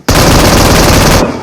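Loud, rapid automatic gunfire in PUBG, one sustained burst of just over a second that starts and stops abruptly, close and dominant, with no voices over it.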